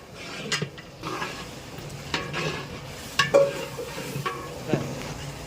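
Ginger garlic paste is stirred in a large cooking pot while preparing vegetable biryani at a temple kitchen, giving a low sizzle under repeated scraping and knocking of a ladle against the pot.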